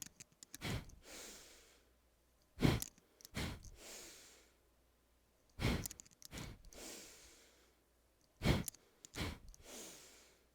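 Deep, slow yoga breaths come in clear, close cycles: sharp inhales followed by long, airy exhales, repeating about six times over the stretch with quiet pauses between.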